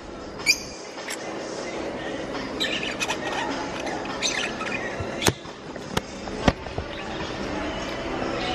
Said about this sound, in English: Cute bird.